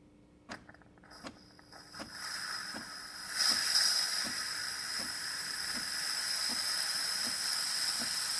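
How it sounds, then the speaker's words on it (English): A Saeco espresso machine's steamer builds pressure in its thermoblock, first ticking in a steady rhythm, then a rising hiss that settles into a continuous close steam rush while the regular clicks continue underneath. "Now the steamer, you're gonna let it sit there a little bit so it builds some pressure inside"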